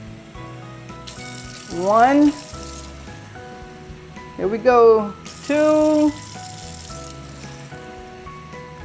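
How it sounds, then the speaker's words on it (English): Water is poured by the cup into a pot of corn cobs in three separate splashing pours, each rising in pitch as it fills, while a voice counts between them. "Now we're going to put 6 cups of water."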